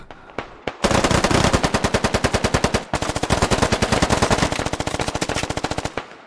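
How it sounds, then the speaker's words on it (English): Gunfire in the military shooter game Squad: a couple of single shots, then a long, loud, rapid automatic burst that pauses briefly and resumes, steady and close. "Ewok does some mad lad shit, comes out from around, puts two bullets into Javi"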